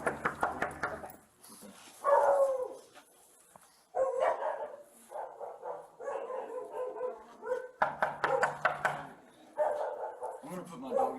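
A dog barks indoors in bursts of loud, close woofs with short gaps, mixed with people talking.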